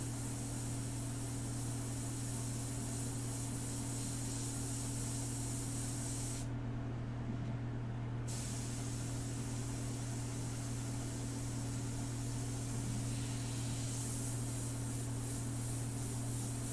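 Airbrush spraying India ink gives a steady, close hiss of air that holds almost the whole time, with one brief pause in the middle before the spray resumes.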